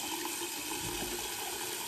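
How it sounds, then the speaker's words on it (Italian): Water trickling and splashing steadily onto a badger shaving brush and soap lather in a bowl, a close, continuous wet hiss with soft sloshing, no voices. "E adesso carichiamola d'acqua"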